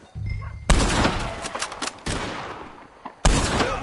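Heavy gunfire erupts in a Red Dead Redemption 2 shootout against O'Driscoll gang members, loud bursts of rapid shots ringing out in waves with brief lulls between volleys.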